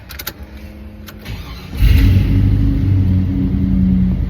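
A few clicks and faint handling noises, then the LS-swapped engine of a 1995 Impala SS with new exhaust cranks and catches, settling into a steady, low, quiet idle that hums on.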